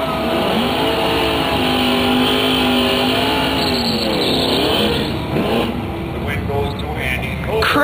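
Roaring race cars, a red Firebird among them, rev and accelerate down a drag strip. The engine drone is loud and steady, with rising and falling pitch sweeps and tire noise, and spectators chat over the racket.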